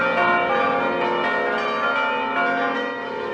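Church bells of the Church of the Annunciation in Nazareth ring out together. Rich, overlapping tones sustain and blend, loud and continuous throughout with no speech.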